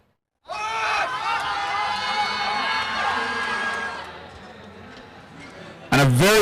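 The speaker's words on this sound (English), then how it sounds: "Let's make a round of applause." A crowd at a powerlifting championship cheers and whoops loudly for a squat attempt, a sustained roar of voices that eases off before a sudden louder burst near the end.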